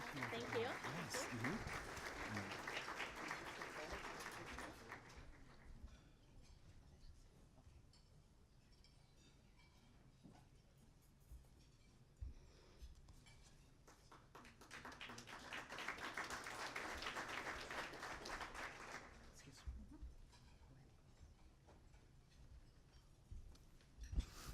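Audience applause for award winners at a 2017 State of the City event, a burst of clapping in the opening seconds that fades to quieter sound, then a second round swelling mid-clip and tapering off, with some voices.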